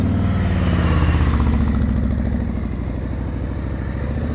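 A motorcycle engine chugs steadily at low revs during slow, controlled riding, a close, even mechanical thrum with slight throttle variation and no talking.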